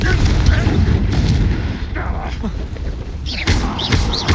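A Confringo blasting spell fired in Hogwarts Legacy: loud booming blasts and crackling impacts roll through a busy battle, with shouted voices mixed in throughout.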